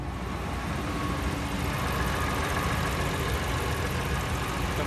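A HEMI V8 engine idles smoothly with a steady, even hum and no exhaust-manifold-leak ticking, close and constant throughout.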